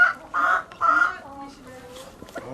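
Chickens give three loud, close squawking calls in quick succession, followed by softer clucks and faint voices.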